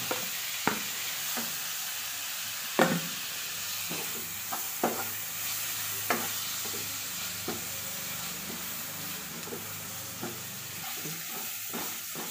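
Masala for squid roast sizzles steadily in a pan after tomatoes go in, a constant hiss broken by occasional sharp clinks of a spoon stirring against the pan.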